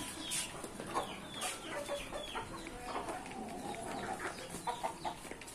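Chickens cluck steadily inside a farm chicken house on an integrated farm, with overlapping calls from several birds at moderate distance.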